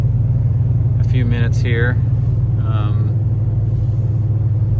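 A 1987 Ford Econoline E350 conversion van's carbureted engine idles after a cold start, a steady low rumble throughout, with someone talking briefly over it.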